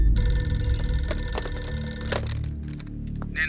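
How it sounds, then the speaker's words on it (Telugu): A telephone rings with a steady electronic trill for about two seconds, fairly loud and close, then cuts off into quieter room sound with no talk. "Sir phone."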